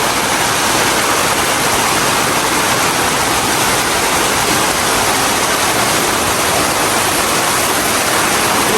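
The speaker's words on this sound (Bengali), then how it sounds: "প্রচুর বৃষ্টি ঝড় হচ্ছে।" A heavy rainstorm with strong wind roars loudly and continuously, a thick, unchanging wash of noise close to the listener.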